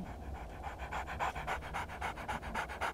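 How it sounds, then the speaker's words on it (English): A dog pants outside in the survival game 7 Days to Die, giving quick, rhythmic breaths that repeat steadily at close range with no one talking. "But there's a dog outside eating me."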